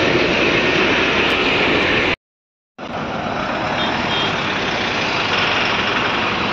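Stalled vehicles idle in a traffic jam on Khambataki Ghat on the Pune–Bangalore expressway, a loud, steady engine rumble that cuts out for a brief moment of silence before resuming.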